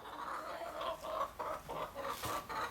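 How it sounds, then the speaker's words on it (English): Backyard chickens cluck repeatedly in a loose, broken rhythm outdoors, the calls close and moderately loud, with no talking over them. "the chickens are just tearing everything up out there"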